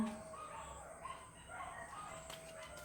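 Dogs bark in a noisy outdoor scene, a few overlapping barks at moderate distance with birds faintly in the background.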